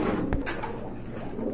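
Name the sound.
Roman gal pigeon cooing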